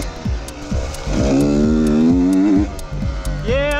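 A Beta RR125 two-stroke enduro motorcycle riding off, its engine close and loud, revving up in repeated rising sweeps as gears change, with a brief sharp rise near the end.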